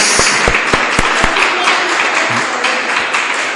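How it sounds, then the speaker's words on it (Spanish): A church congregation claps together in a steady wash of applause, with a few sharper individual claps early on. "Vamos a darle un aplauso."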